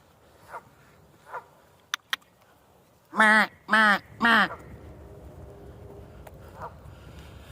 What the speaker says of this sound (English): Or I'm sorry, some geese, I should say